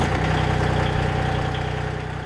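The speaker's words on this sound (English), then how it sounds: "the team installed a diesel engine in their snowmobile" A diesel engine fitted to a snowmobile runs at a steady idle, loud and close, with a regular low-pitched thrum and mechanical vibration throughout, easing off slightly at the end.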